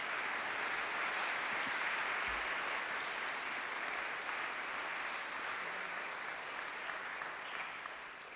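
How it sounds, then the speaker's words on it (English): Sustained audience applause at a senior awards night ceremony, steady and fairly loud throughout, honoring scholarship donors, fading slightly at the end. "if we could give them a round of applause"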